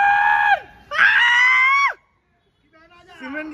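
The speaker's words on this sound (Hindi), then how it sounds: "चीखने की आवाज आ रही है" A woman screams in two long, loud, high-pitched bursts, the second sustained then cut off, followed by a pause and a fainter, wavering vocal sound.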